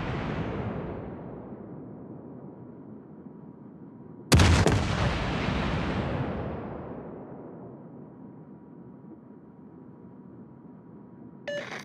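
Naval gunfire in the World of Warships game: a loud booming salvo that decays slowly, then a second sharp, heavier blast that rolls away over several seconds, ending with a short electronic beep.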